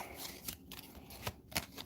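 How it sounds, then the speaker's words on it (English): Playing cards shuffled by hand during a tabletop card game, a quick riffling flutter with a couple of sharper snaps, close and fairly quiet with no talking. "Now I have to shuffle them all over again."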